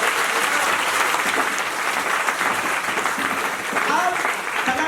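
An audience at a college poetry recital breaks into dense, sustained applause, with many hands clapping at once in a steady roar that holds evenly throughout without pausing.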